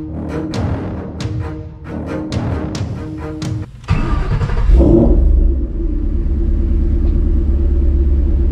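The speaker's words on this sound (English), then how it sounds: "we're going to let it warm up, get it to operating temperature" A Ford Mustang GT500 engine starts with a sharp whir and a burst of revs, then settles into a deep, rumbling idle as it warms up, loud and close. Rhythmic clicks come before the start.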